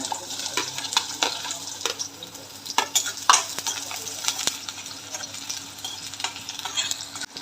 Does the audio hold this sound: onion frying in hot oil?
yes